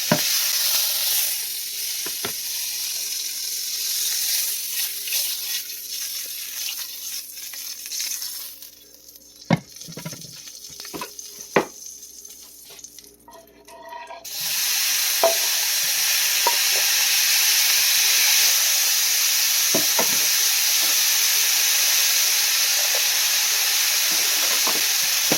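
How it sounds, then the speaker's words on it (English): Butter and foraged morel mushrooms with spices sizzle and spatter in a hot pan, a steady frying hiss that dips midway with a few clinks and stirs, then returns loud and continuous. "I'm basically just going to saute these mushrooms in butter and some spices."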